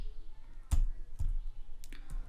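Typing on a computer keyboard while writing a first C program, a few sparse, faint clicks and taps spaced apart in a quiet room.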